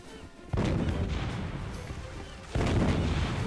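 Heavy booming gunfire bursts in two loud waves, dense and continuous, with a rough crackling texture like weapon fire in the video game Pirates of the Caribbean: At World's End.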